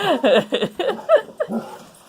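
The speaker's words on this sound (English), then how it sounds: "what would a TV Tray Tuesday be without my dogs barking?" A dog gives a quick series of yips and whiny barks, close by and fairly loud.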